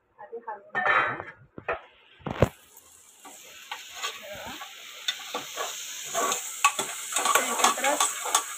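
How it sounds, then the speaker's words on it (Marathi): Onion, tomato and chili being stirred and frying in a pan for khichdi, a steady sizzle under repeated scraping and clinking of a spoon against the metal pan, with some speech early on. "हे एकत्र शिजते आपलं कांदा, टमाटर, मिरची। हे आपण जरा आधी हलवून घेऊया।"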